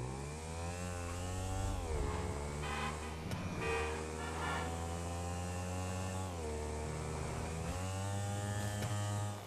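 A fully upgraded motorcycle in GTA 5 runs loud and steady, its engine drone rising and falling as it revs and shifts, with a sharp click partway through and no talking.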